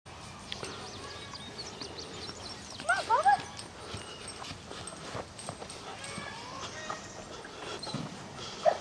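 A beagle named Bubba hunts for rabbits at night around a rabbit-raising homestead, giving scattered soft whimpers and yips with a short louder burst partway through, amid outdoor rustling and faint talk.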